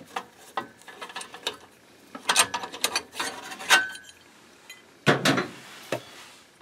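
Phillips screwdriver working the small cover screws on a Riello oil burner of a Biasi boiler, giving close, uneven ratcheting clicks and metallic clinks in short bursts with quiet gaps between.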